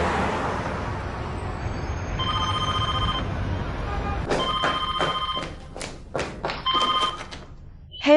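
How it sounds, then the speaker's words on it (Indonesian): Telephone ringing in a series of bright repeated rings that begin partway through over a low rumbling background, followed by a thump. "Telepon Poppy"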